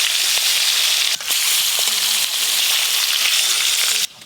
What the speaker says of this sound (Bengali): প্রথমে কই মাছগুলো ভাজা করব।